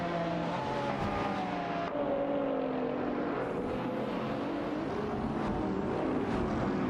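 Lamborghini Murcielago SV and other cars in a video game race, a loud continuous engine roar with shifting pitch as gears change and rivals pass close by.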